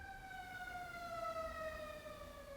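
An ambulance siren wails steadily in a long, slowly falling tone as it passes, continuous at moderate distance with no talking.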